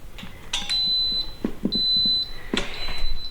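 An electric pressure cooker cooking sweet potatoes emits two long electronic beeps, high and steady, each lasting about half a second, amid light kitchen clatter.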